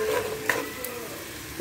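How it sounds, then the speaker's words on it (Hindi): Chilies and spices frying in oil for baghare baingan, a faint crackling sizzle with a couple of light utensil taps. "ये देखिए, सारे मिर्च मसालों को मैंने फ्राई करने के लिए डाल दिया है।"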